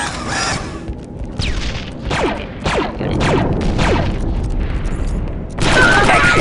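An explosive charge detonates in the video game Star Wars Republic Commando, heard as a series of loud booms and crackling bursts like gunfire, ending with a heavy blast.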